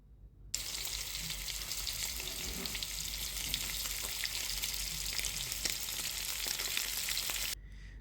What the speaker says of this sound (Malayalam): ഇനി മീൻ ഫ്രൈ ചെയ്തെടുക്കണം